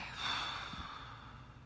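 A deep breath drawn in and then slowly blown out during a guided relaxation exercise, close and soft, with a breathy hiss and a brief low snort of air near the end.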